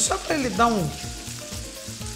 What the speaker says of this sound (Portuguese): uma tostadinha assim, uma friturinha de leve